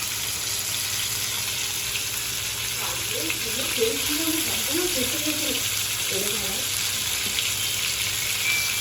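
Constant hissing sizzle of catla fish frying in hot oil, with some faint clinks and low murmuring in the background.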